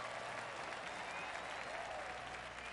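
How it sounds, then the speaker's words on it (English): A golf gallery in PGA TOUR 2K23 applauds steadily at the 15th hole after a good shot, a dense, even patter of many hands at moderate distance that carries through the whole stretch. "That deserves a golf clap."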